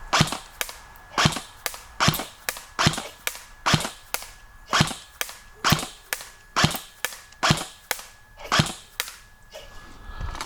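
Airsoft gun fired at a target from 100 feet away, about twenty sharp snapping shots in a steady, evenly spaced rhythm, each crisp crack followed by a short tail, with no talking.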